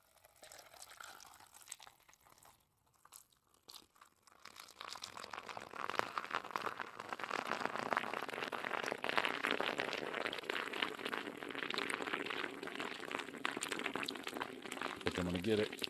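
A large drink poured into a glass until it reaches the very top, a steady liquid rush building and continuing for most of the stretch, with a voice heard faintly early on.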